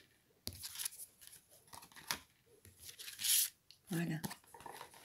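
Tarot cards are drawn and handled, making a string of close, crisp papery rustles and flicks at an uneven rhythm, with a soft voice in between.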